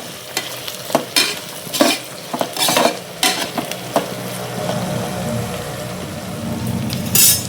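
Food frying in oil with repeated scraping stirs of a spoon in the pan, a steady sizzle underneath and sharper bursts of stirring every second or so, close and fairly loud, no talking.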